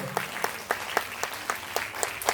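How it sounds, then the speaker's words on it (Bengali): An audience at a stage event in an auditorium clapping, a modest, fairly sparse round of applause with distinct individual claps in an uneven rhythm, moderately distant. "এখানে একটু জোরে হাততালি হবে এটার জন্য"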